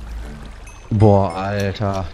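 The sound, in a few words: flowing water in Minecraft, video game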